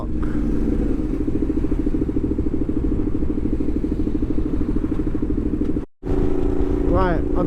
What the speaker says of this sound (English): this bike's just getting louder and louder, man, and I really don't want to fucking damage it even more